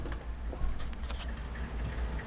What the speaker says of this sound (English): Wise old man, is this your first rain?